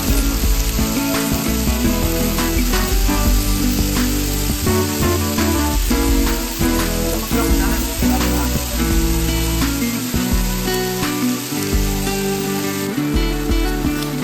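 Chicken teriyaki frying in a small non-stick pan with a little oil, a loud steady sizzle with crackling spatters throughout and music playing over it.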